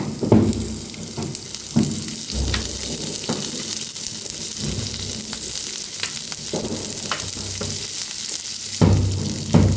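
Hot oil sizzles and crackles steadily in a pan as onion, coconut, ginger and garlic roast for Maharashtrian katachi amti, with occasional stirring scrapes and clinks, close and continuous without speech.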